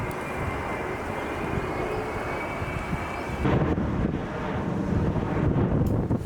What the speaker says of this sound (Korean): 바람은 계속 세게 불고 날씨도 되게 추웠습니다